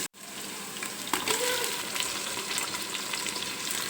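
Onions fry in hot oil in a pan for a tempering, giving a steady close sizzle that carries on without a break, with a few faint stirring clicks and no talking.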